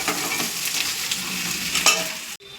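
Puffed rice ghonto is stirred in a frying pan, a steady close sizzle with scraping stirring strokes throughout, with no voices.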